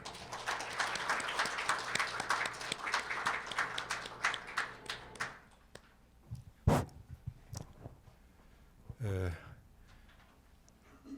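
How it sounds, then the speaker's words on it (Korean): An audience at a legislative policy forum gives a warm round of applause to welcome the head of a unification research institute, dense clapping for about five seconds before it stops and scattered sounds follow. "다들 뜨거운 박수로 맞이해 주시기 바랍니다"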